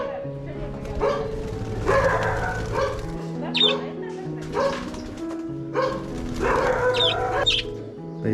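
Dogs bark repeatedly in rhythmic bursts at a pigeon and lovebird loft in Wayanad, mixed with rooster crowing and hen clucking nearby, loud and fairly close.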